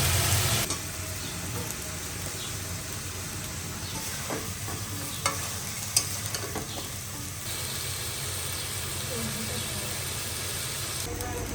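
Fish and drumstick vegetables cook in a pan, giving a steady sizzle with scattered stirring clinks and scrapes, while voices talk over it at moderate distance.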